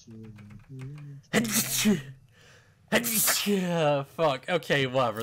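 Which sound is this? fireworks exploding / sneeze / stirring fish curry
sneeze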